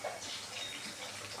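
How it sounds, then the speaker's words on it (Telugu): Water pours from a metal jug onto uncooked rice for biryani, a steady close splashing gush that runs alone without pause. "చూడండి 3 చెంబులు వాటర్ వేయాలి."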